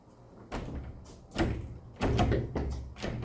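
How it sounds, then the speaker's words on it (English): A door is tried but will not open: a few rattling handle and latch knocks come in bursts, close and fairly loud, with no speech. "Imagine that I try to open the door right now."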